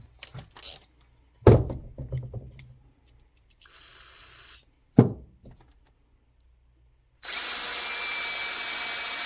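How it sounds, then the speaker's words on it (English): Several brief clicks and knocks, then a short high-pitched whir, before a power drill spinning a cotton swab to clean a generator part spins up to a loud, steady whine near the end. "Take you a drill and a Q-tip."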